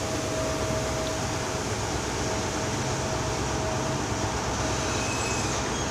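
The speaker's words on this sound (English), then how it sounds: "43159 is just departing for Bristol Temple Meads." Class 43 power car 43159 pulling out of Bath Spa station toward Bristol Temple Meads, a steady, moderately distant rumble of rolling wheels with a faint thin whine running over it.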